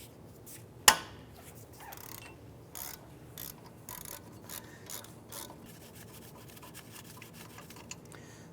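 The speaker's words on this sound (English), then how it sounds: "Using a 17mm socket in your ratchet, I'm going to go ahead and loosen and remove the caliper bracket bolts." A ratchet fitted with a 17mm socket works loose the caliper bracket bolts on a Honda Civic, producing soft close clicking and rubbing. A single sharp crack of a bolt breaking free is followed by quieter scattered ratcheting.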